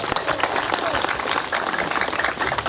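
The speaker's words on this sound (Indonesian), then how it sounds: "Tepuk tangan dulu." Dense crowd applause from the audience at a Minangkabau Baralek Gadang celebration held by the Minang community in Tasikmalaya, with a steady busy wash of clapping mixed with crowd noise and voices throughout.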